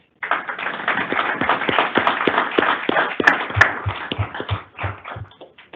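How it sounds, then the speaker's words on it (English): Round of applause at a State Transportation Board meeting: a modest group claps with distinct individual hand claps, fairly close, building then thinning out toward the end, no speech over it. "So I think we should give them a round of applause."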